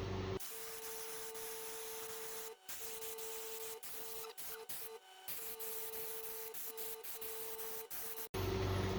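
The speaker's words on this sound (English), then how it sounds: "this airbrush is just driving me batty" An airbrush sprays thick white paint onto a SpongeBob-themed tuna popper lure with a steady hissing spray. The spray breaks off several times in short pauses, and a faint mechanical hum runs beneath it.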